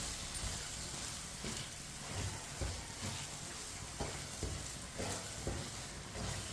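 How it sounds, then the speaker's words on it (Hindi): Sugar being stirred into walnut halwa in a pan, with a steady sizzling fry and soft scraping strokes of the spoon repeating about once a second, close and fairly quiet with no talking. "चीनी भी मिक्स कर लेंगे।"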